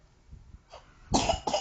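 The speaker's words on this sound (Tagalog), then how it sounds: "Nakakatakot ang ubo." Two sharp coughs close to the microphone, the first harder and the second shorter, following a few faint low sounds in an otherwise quiet room.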